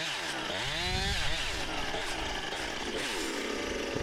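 A chainsaw with a loose chain cuts into spalted maple, its loud, close engine whine dropping and wavering in pitch as it bogs down, then straining steadily on.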